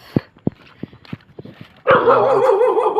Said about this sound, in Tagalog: Ito po yung aso